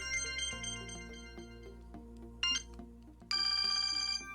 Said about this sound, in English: Here we have some examples, obviously, of the ringtones that were available on the Samsung E250.